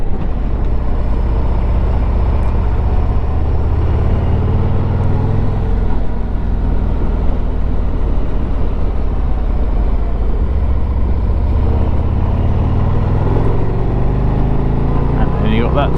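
Harley-Davidson Street Glide motorcycle riding along sweeping roads, a steady, loud engine drone with heavy wind rush that holds constant throughout, with slight shifts in pitch as the bike rolls on.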